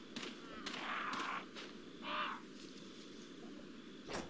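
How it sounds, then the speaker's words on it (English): Crows caw in the Resident Evil 4 video game: several hoarse, repeated calls at moderate distance over a steady game ambience, with a sharp knock near the end. "Are there any other crows lying around? No. Wait, I hear one."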